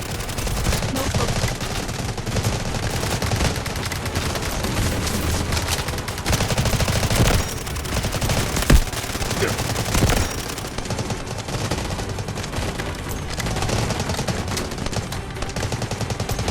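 Rapid Bizon submachine gun fire in the Delta Force Mobile video game runs nearly continuously, dense and loud, amid game effects and battle noise.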